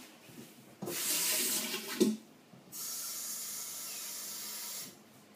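Water poured from a tap into gluten free hot cross bun mix: two hissing runs of flowing water, the first a little over a second with a thud near its end, the second steadier for about two seconds, close and moderately loud, without talk.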